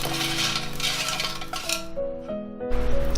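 Crispy, golden air-fried french fries tossed with salt clatter and clink against a dish in quick, busy bursts, close and fairly loud, with no talking.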